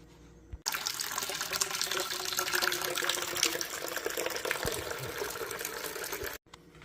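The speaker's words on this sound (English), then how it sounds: "we can drain off all of this liquid" A bucket of canning tomatoes drains off its liquid in a steady, close splashing stream. The pour starts abruptly, runs for several seconds and then cuts off.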